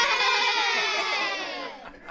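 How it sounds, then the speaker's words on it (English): A group of children at an art camp give a big, loud cheer, a dense wash of high shouting and squealing voices that holds strongly for about two seconds before starting to fade. "give us a big cheer"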